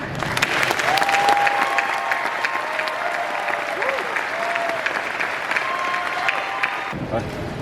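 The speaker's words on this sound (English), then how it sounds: "Please join me in a round of applause" An audience at a doctoral graduation ceremony gives a sustained round of applause, steady and fairly loud, with scattered whoops and tonal cheers rising over the clapping before it thins out at the end.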